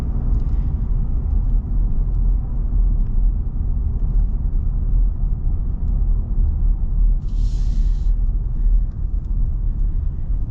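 Steady low engine rumble and road noise fill the cabin of a 2024 Ford F-150 Tremor pickup cruising along, loud and unbroken, with a faint brief chime partway through and no talking.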